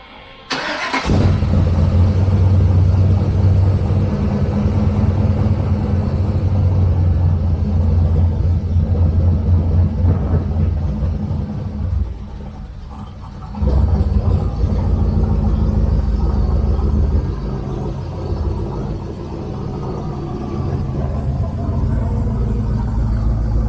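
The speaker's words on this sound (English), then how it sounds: "So I'm about to pull the truck out because I gotta power wash it because it's filthy." A truck engine starts and rumbles steadily as the truck is pulled out, a loud close low drone that dips briefly midway then picks back up.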